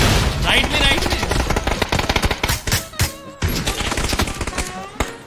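Dense, rapid bursts of automatic gunfire in PUBG on the Karakin map crack close and loud, overlapping in quick volleys, with voices talking over the shooting.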